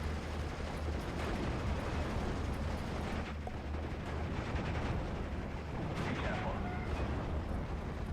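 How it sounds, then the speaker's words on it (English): A Panzer tank and an anti-tank gun exchanging fire in Steel Division: Normandy 44, with dense rumbling battle noise, mechanical clatter and a few sharper blasts under ongoing speech. "it moves right into line of sight of an anti-tank gun, so it turns to engage the anti-tank gun"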